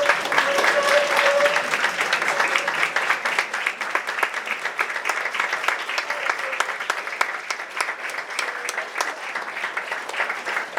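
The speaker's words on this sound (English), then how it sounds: "Would all the veterans please stand and please give them a big round of applause." Sustained applause from a middle school audience at a Veterans Day program as veterans stand, steady and full for about eleven seconds with dense overlapping claps.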